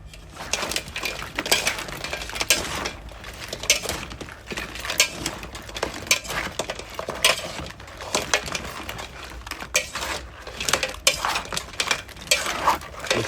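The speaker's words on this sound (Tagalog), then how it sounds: "Mix lang natin konti guys para lahat ng crabs malagyan ng sauce." Garlic chilli crabs tossed in sauce, with a steady run of close metallic clinks and scrapes of a utensil against the pan and crab shells, continuous and busy throughout.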